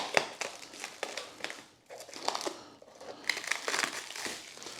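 Plastic wrapping crinkles and crumples in bursts as an electric scooter is unboxed, with irregular rustles and sharp crackles nearby, quieter pauses between handling, and no speech.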